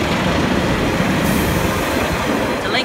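A Northern Pacer unit, 144005, rumbles loudly past a level crossing in Lincoln, a steady close roar of wheels and engine running unbroken from start to finish, with a faint squeal near the end.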